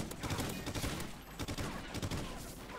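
Rapid gunfire from an 18-player Infected match in Call of Duty Ghosts crackles in dense, overlapping bursts, loud and close throughout the short stretch.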